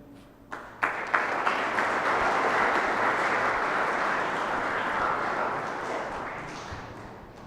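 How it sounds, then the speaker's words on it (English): A lecture audience claps steadily, a few sharp early claps swelling into sustained, dense applause that slowly fades toward the end. "May we have a round of applause, a resounding round of applause for Swamiji."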